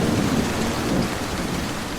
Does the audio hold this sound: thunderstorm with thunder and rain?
yes